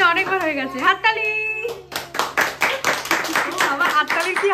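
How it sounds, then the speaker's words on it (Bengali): Hands clapping at a home birthday celebration, a quick run of sharp, close claps in steady rhythm, following a stretch of singing voices and mixed with people talking. "আবার হাততালির কি আওয়াজ"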